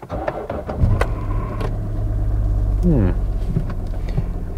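A car engine firing up, a brief starter whir and catch followed by a low steady idle rumble, with a short rising whine and faint clicks near the end.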